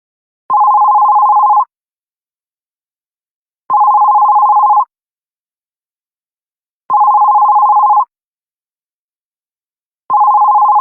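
A telephone rings loudly and steadily in four identical long electronic tones separated by even pauses. The call is from the father, and no one speaks.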